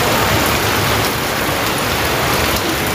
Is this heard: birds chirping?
no